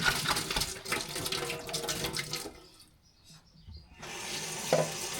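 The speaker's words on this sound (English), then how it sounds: "I probably do 2 or 3 rinse outs" Tap water runs and splashes as goat kid milk bottles are rinsed out in a sink, a steady close gush that stops briefly, leaving a quiet trickle, then starts up again.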